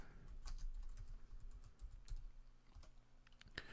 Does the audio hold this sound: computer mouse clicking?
yes